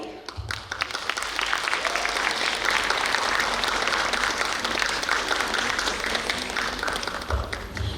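Audience at a school fest gives sustained applause after a stage performance, dense clapping swelling in after a brief pause and holding steady for several seconds before tapering.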